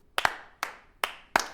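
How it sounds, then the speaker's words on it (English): A slow clap sound effect: four sharp, isolated hand claps spaced about 0.4 seconds apart, crisp and moderately quiet with nothing else heard. "A slow clap?"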